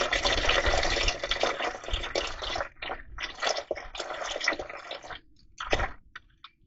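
Motor oil drained from a 2018 Ram 2500 Cummins 6.7 diesel pours steadily in a thick, gurgling stream into a drain pan, then thins into sputters and a few last drips.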